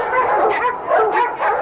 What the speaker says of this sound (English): I've got five dogs.